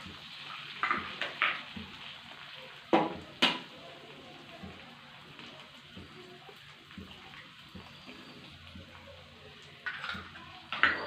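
Beaten eggs are poured into a hot pan and stirred as they fry, giving a soft sizzle with scattered scrapes and sharp utensil clinks against the pan.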